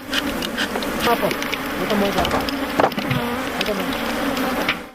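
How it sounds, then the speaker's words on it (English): Dense, loud buzzing of a large swarm of honey bees in African beekeeping, a continuous droning hum close by with no talk. "thousands more bees come out to defend them"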